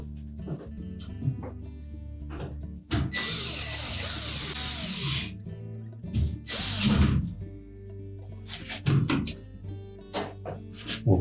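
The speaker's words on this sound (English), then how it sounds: "we'll secure it with 2 mounting screws" A power driver runs in two mounting screws to secure a new GE washer water valve, with loud sustained whirring bursts, and a dog barks and yips intermittently nearby.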